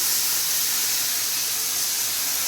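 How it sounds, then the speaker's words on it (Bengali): Bottle gourd goes into a hot pan with prawns and sets off a steady, loud sizzling hiss that continues unbroken throughout. "এবার আমি এর মধ্যে লাউটা দিয়ে দেবো।"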